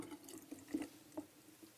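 Fresh water pours into a wash basin for rinsing a wig, a quiet continuous trickle with a few soft splashy drips standing out.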